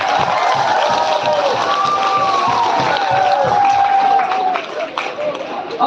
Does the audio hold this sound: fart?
no